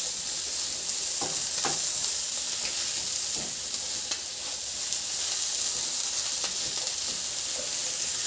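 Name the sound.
onions frying in a pan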